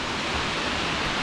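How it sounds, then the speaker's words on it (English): Narada Falls at Mount Rainier National Park roars as a dense, steady broadband rush of falling water, loud and unbroken with no voices. "We're approaching Narada Falls here at Mount Rainier National Park."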